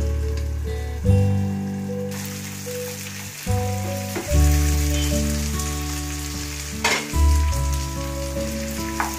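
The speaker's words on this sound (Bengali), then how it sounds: "মাছটা কিন্তু ভাজা ভাজা হচ্ছে" Boal catfish pieces sizzle in hot oil with spices in a pan, a continuous crackling fry layered under loud low sustained tones and a few sharp clattering bumps.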